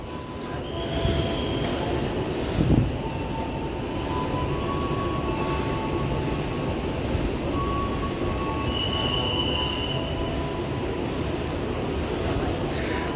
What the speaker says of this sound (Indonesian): KLB pengiriman rangkaian kereta bandara akan segera melintas langsung stasiun Sudirman Baru BNI City